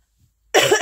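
A single short, harsh cough bursts out close by after a moment of silence.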